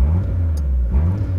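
A modified 1984 Toyota Corolla Levin AE86 engine drones loud and close, a steady low rumble that swells briefly as it revs.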